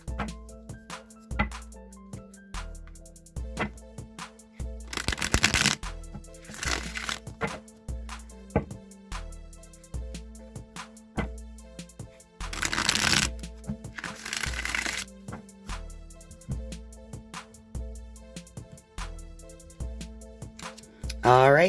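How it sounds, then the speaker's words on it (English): Rider-Waite tarot cards riffled and shuffled over several bursts, crisp papery flutters coming close and clear between quieter handling, with steady background music underneath. "let me go ahead and shuffle the Rider-Waite deck a few times"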